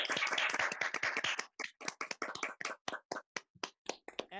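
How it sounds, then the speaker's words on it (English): A small cabaret audience claps after a puppet act: a brief burst of dense clapping thins into scattered, separate hand claps that trail off, crisp and fairly quiet with no voices. "Let's give a round of applause for Keith"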